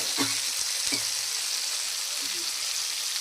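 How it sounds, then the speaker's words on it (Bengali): Green banana (kachkola) fritters sauté in a hot pan with a steady sizzle, with a couple of soft spatula knocks early on. "এখন বড়াগুলো কষানো হবে"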